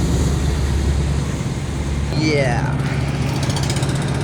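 A boat engine drones low and steady on a river, a continuous rumbling hum that carries on without pause.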